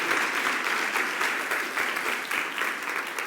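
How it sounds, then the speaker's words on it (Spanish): A church congregation bursts into steady, dense applause, a loud continuous wash of many hands clapping together for the full stretch, with no voices rising above it. "un aplauso al Rey de Gloria"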